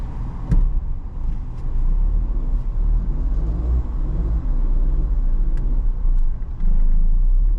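A 2025 Tata Nexon driving on a hill road, a steady low engine and road rumble heard from inside the cabin, with a couple of brief clicks and knocks and no speech.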